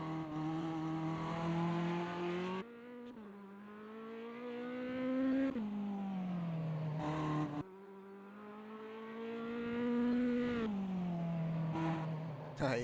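A Honda race car engine with VTEC in an endurance racing video game at Barcelona, revving hard in long sustained pulls that climb in pitch, dropping briefly at each gear change before rising again, loud and close.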